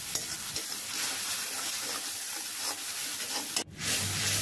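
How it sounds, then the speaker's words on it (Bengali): Chili and coriander powder spice mix with salt, stirred and frying in a pan for a vegetable and dried mola fish dish, a steady close scraping and sizzling throughout that cuts off briefly near the end. "এখন ভালো মতন মশলাটা কষিয়ে নিতে হবে।"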